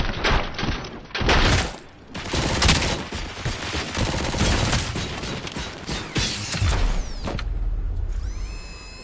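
Video game gunfire in Robocop: Rogue City, loud rapid automatic volleys with heavy bursts and thuds running almost continuously, briefly broken by pauses, ending in a ringing mechanical tail.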